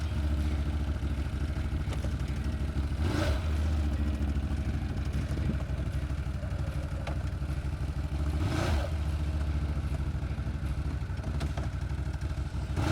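A 1000cc ATV engine runs steadily at idle while its transmission is tested, with a loud continuous mechanical drone and two brief sharp clunks as gears engage.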